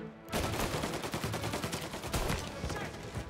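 Rapid gunfire in the video game Mafia Definitive Edition, a dense continuous burst of loud overlapping shots after a brief quiet start.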